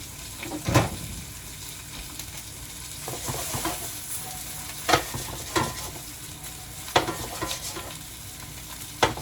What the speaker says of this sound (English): Let's go ahead and get these mushrooms in there.